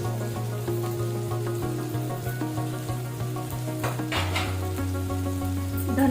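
Tomatoes with dry spices sautéing in a pan, a quiet steady sizzle and frying crackle under a low hum, with occasional stirring scrapes.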